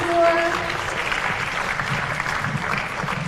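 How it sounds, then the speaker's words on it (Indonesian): Audience applause at a school event with Jakarta student council leaders, a steady broadband clatter of clapping running throughout, fairly loud and close, with no talk over it. "tepuk tangannya teman-teman semua"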